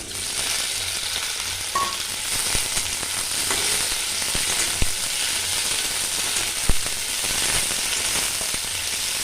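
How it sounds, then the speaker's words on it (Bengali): Okra frying in hot oil in a pan for a potato-okra curry: a steady, loud, close sizzle runs throughout, with a few faint scraping clicks from stirring. "এবার ঢ্যাঁড়সগুলো দিয়ে দেবো।"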